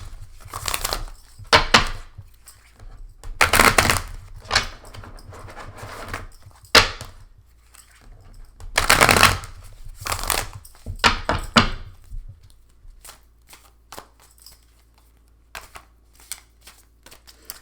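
Stiff tarot cards are shuffled by hand in uneven bursts of close, crisp riffling and flapping, separated by short pauses and quieter taps, with no talking.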